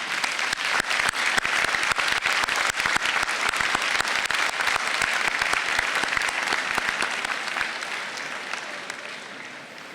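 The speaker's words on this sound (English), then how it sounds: "give them a round of applause for supporting your journey" Graduates at a spring convocation ceremony applaud their family and friends, a large crowd clapping loudly and continuously, dense and even throughout, tapering slightly near the end.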